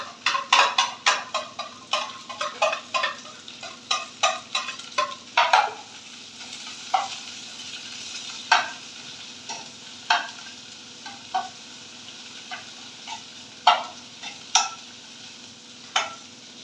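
Onions frying in a pan with a steady background sizzle, broken by a long series of sharp spatula scrapes and stirs, dense at first and then spaced out, fairly close and alone.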